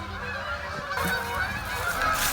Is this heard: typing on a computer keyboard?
no